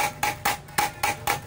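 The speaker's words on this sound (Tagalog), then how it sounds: "So next ang gagawin ko is pupukpukin ko ulit tong vice grip, sabay hihilahin ko para kumalas na siya." Six sharp metallic hammer strikes on a vice grip clamped to an engine backplate during a timing chain replacement, evenly spaced and close, each ringing briefly before the next blow, with no talk.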